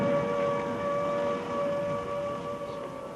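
Wartime air raid civil defense siren wailing during a bombing, a sustained steady tone with harmonics over a rough background noise, slowly swelling and fading in loudness.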